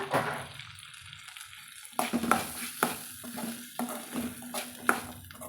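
Grated coconut is stirred into avarai bean sundal in a pan, giving a faint frying sizzle under a series of close spoon scrapes and taps against the pan.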